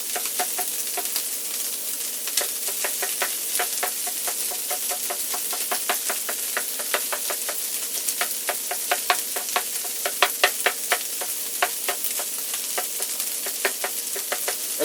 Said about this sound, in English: So you can just let this grill for a while, which is fine.